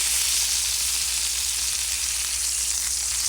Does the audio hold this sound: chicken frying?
yes